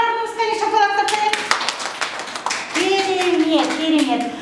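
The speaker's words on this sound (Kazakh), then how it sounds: "Барлығымыз қане шапалақтап қойып." Children in a first-grade classroom clap their hands in a ragged patter while young voices and an adult talk and sing over it.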